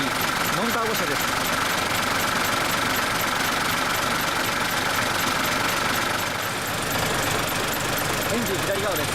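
A 1999 Isuzu Forward high-block truck's 7.2-litre, 205-horsepower non-turbo diesel engine idles steadily nearby, a continuous dense rumble with knocking texture.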